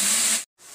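Onion and green chilli sizzle steadily in hot oil while sautéing, a bright, close hiss that cuts out briefly and then resumes.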